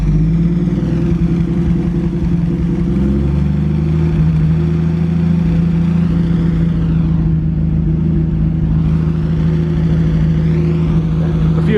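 Pre-war car engine during renovation, running steadily with a low mechanical drone and a couple of rising revs that swell and settle back, close and loud with no talk over it.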